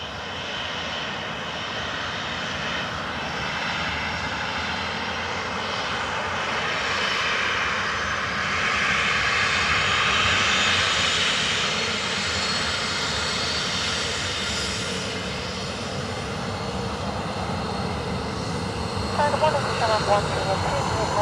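An airliner on approach to land at Dublin Airport, a steady broad jet roar swelling slightly and fading over about twenty seconds, with a voice talking intermittently.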